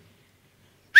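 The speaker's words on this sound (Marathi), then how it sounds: "ही शिट्टी होती आपल्या टीमसाठी" A single sharp, loud rising whistle from an audience member at a Marathi comedy stage show bursts in at the very end after near silence.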